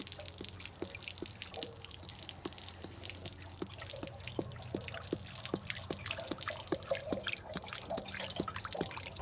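Continuous trickling water with frequent small drips and splashes over a low steady rumble, as water drains out of an RV washer through a hose.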